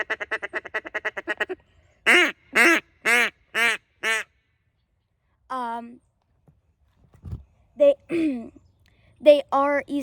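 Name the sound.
Duck Commander Shadow duck call quacking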